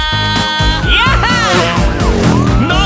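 A police car siren wails in a Korean children's vehicle song, loud and up front, its rising and falling tones riding over bouncy music and a singing voice.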